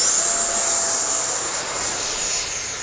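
Arrows RC 64mm Marlin model jet with an electric ducted fan at full throttle, a loud steady whine and rushing roar holding throughout with a high tone sliding slightly as it passes.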